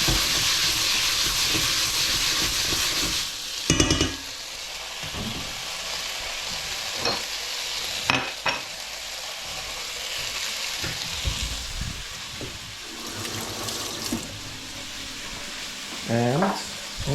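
Egg dumplings (nokedli) frying in hot oil make a steady, close hiss that lasts throughout. Loud clatters and scrapes come at intervals, with a brief tonal squeal near the end.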